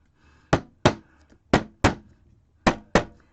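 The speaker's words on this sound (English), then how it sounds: "Now I'm going to hammer this." Six sharp, solid hammer blows strike in an uneven rhythm at a craft bench, each a loud close thud with a short decay and brief pauses between pairs of hits.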